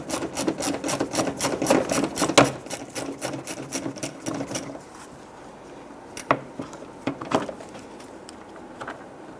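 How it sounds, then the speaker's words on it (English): Rapid clicking of a 1/4-inch ratchet backing out an 8mm bolt on a 2011-2019 Ford Explorer front bumper cover, loud steady bursts for several seconds, then a quieter stretch with a few sharp isolated clicks. "We're going to use our 1/4" ratchet. Loosen and remove this here."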